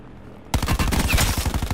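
Rapid automatic gunfire in the Call of Duty Black Ops 4 Blackout battle royale game bursts in after a half-second of quiet, a loud, dense stream of repeated shots that keeps going to the end.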